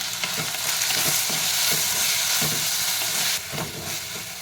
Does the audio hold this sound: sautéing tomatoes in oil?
yes